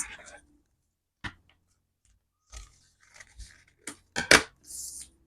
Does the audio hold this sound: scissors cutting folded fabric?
yes